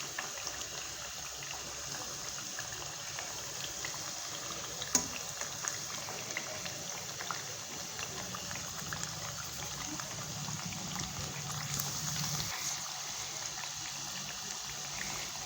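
Sesame tilori frying in oil over a low gas flame, a steady soft sizzle and bubbling hiss that runs evenly throughout with no voices.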